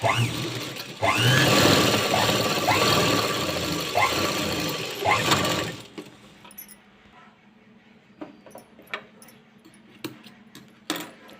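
A sewing machine runs loud and close for about six seconds, stitching a joint in blouse sleeve fabric with a fast, steady whirring. Quieter handling clicks and rustles follow.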